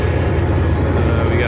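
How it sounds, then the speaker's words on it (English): A steady, heavy low rumble of a train rolling past, continuous and fairly loud throughout. "we got a train going by."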